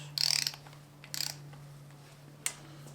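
Torque wrench tightening camshaft cap bolts to 16 foot-pounds on a Skunk2 cam install in a Honda short block, giving a few quick ratcheting clicks in two bursts and then one sharp click over a steady low hum.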